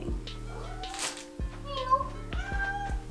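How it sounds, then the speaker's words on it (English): A cat meows several times in short, insistent calls, close by, with a person talking over and between the meows. "What are you meowing about down there?"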